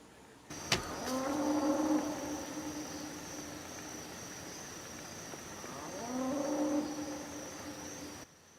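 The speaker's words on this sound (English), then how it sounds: "Our neighbor 2 doors down has a noisy cow tonight." A cow moos twice at night, long drawn-out calls several seconds apart, with a faint steady hum and a sharp click near the start.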